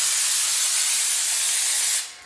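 Aerosol brake cleaner sprays onto the front brake parts of a 2016 Mazda3 in one steady, loud, close hiss lasting about two seconds before cutting off.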